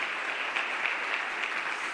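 Church congregation applauding during a service: steady, fairly faint clapping from many hands, even and continuous, with no voice over it.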